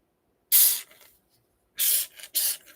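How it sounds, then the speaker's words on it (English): Three short bursts of spray hiss out like an airbrush, sharp and bright up close, the first alone and the last two in quick succession, with silence between them and no talking. "It's like an airbrush."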